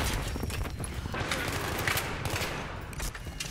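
Gunfire in Battlefield 3 multiplayer on a flying map such as Caspian or Kharg, a dense, continuous rattle of shots and distant booms running the whole moment at moderate loudness, with no clear speech over it.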